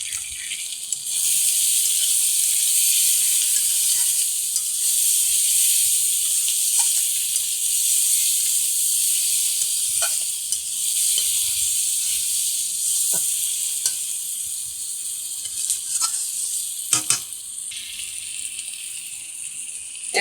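Fish oil with salt and turmeric sizzling in a hot pan, a steady loud hiss of frying that runs unbroken with a few faint clicks and pops.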